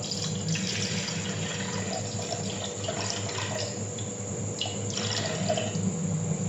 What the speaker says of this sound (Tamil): ஃபஸ்ட் இதுக்கு 250 ml தண்ணி ஊற்றிப்போம்